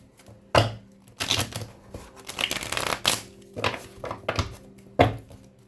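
Several bursts of tarot card shuffling, crisp riffling rattles separated by short pauses, close by and moderately loud with no voices.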